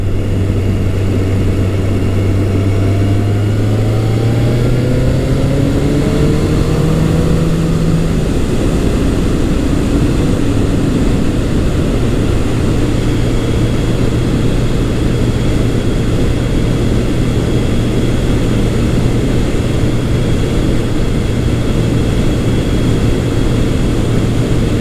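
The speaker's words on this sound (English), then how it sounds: "the roll-on acceleration is one of my favorite features of these FJs" Yamaha FJ1200 motorcycle engine pulling hard on a road, a loud continuous drone whose pitch rises steadily through the gears while wind noise rushes over it.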